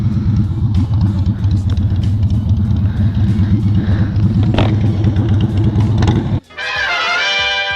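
A 2018 Yamaha MT-10 motorcycle with a Pipe Werx exhaust, its engine running with a loud, steady, throaty drone up close, then cutting off abruptly near the end, after which a high whine takes over.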